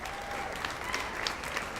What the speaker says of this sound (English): Please give those folks a round of applause.